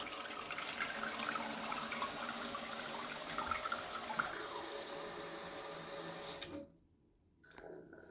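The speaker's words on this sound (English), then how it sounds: "So that's the cistern filled back up" A toilet cistern refills after its fill valve is adjusted, giving a steady close rushing hiss of inflowing water that cuts off abruptly near the end, leaving near silence and a faint click.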